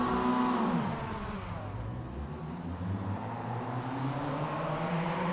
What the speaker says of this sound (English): The revs have risen.